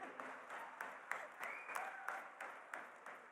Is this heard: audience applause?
yes